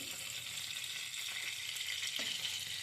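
Food fries in a pan with a faint, steady sizzle and occasional light stirring or scraping, quiet and without any talk.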